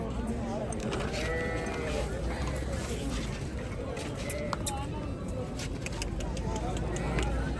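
A male goat for sale at a busy livestock market in Lahore bleats several times, with a wavering call that carries over the steady hubbub of crowd voices and nearby traffic.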